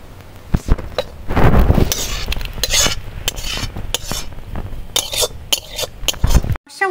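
A cooking pot of prawn curry with banana flower and coconut milk is lifted off an outdoor wood-fired clay stove, with loud scraping and metallic clanks of pot and utensils, brief sizzling, and a voice talking nearby.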